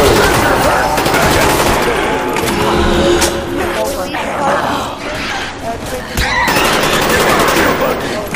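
Gunfire from an overpowered gun in the zombie video game Shangri La: loud, dense rapid bursts of shots with brief pauses, over game music and effects, with a voice speaking over the action.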